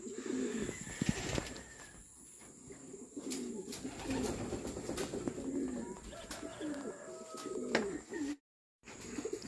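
Racing pigeons at a loft cooing in soft, repeated low murmurs, several birds calling over one another close by, with a few sharp knocks and rustles mixed in.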